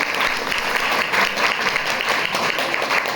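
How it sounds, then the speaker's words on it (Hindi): Steady, dense applause from a college audience gathered for a National Youth Day celebration honoring Vivekananda, filling the room evenly for a few seconds with no talk over it. "तो एक तो बड़ी भारी ताली बनती है आप सबकी"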